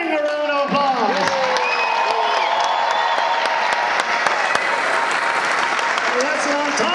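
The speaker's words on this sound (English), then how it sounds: "Give yourself a roaring round of applause." An audience at a martial arts event bursts into loud, sustained applause with cheers and whoops, while voices shout over the clapping.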